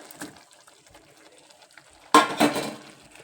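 Egg gravy being stirred in a pan over a low flame, a quiet clink early on, then a short burst of wet scraping and bubbling liquid near the end.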